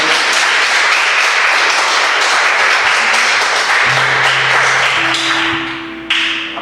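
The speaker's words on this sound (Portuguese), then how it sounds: "Vamos aplaudir o Senhor bem forte nessa noite." A church congregation claps loudly and steadily at an evening service, dense applause filling the room throughout, with a faint tone and a soft thump near the end.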